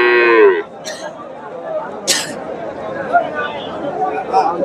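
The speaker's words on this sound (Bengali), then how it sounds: "এই যে ছোট সাইজের বকনা গরুগুলো আছে" A young heifer moos once, loud and close, at a busy livestock market, followed by crowd chatter and scattered voices.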